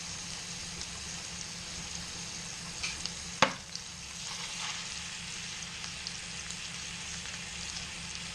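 A haunch of venison sears in butter in a pan, a soft even sizzle held low and steady, broken once by a single sharp clack partway through.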